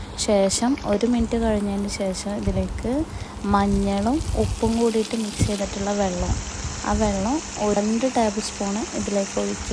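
Sliced plantain chips frying in hot oil, a continuous crackling sizzle running steadily under a woman's spoken instructions, with a brighter hiss joining partway through.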